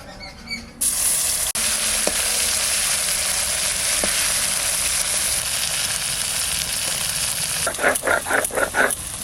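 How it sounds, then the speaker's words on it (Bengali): Topshi fish frying in hot oil, a steady loud sizzle that runs throughout, with a few brief clatters of stirring near the end. "তপসি মাছ ভাজা"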